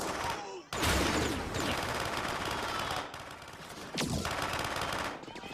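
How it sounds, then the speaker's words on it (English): Machine gun fire from The Terminator (1984) rattles in loud sustained bursts with brief gaps between volleys, sounding harsh and near, with some voices mixed in. "So that's a Terminator shooting at them just with a different body suit, or it's a bad human?"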